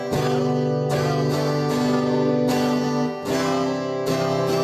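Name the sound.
guitar strumming quarter and eighth notes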